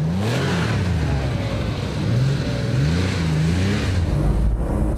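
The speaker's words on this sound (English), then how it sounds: "I have to give the car a little push, and to do it under control, I have to tap the gas pedal." Porsche 911 SC engine working on a snowy Swedish road, the gas tapped in short bursts so the revs rise and fall in a wavering pattern over steady road and wind rumble, close and fairly loud.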